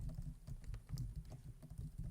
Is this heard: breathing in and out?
no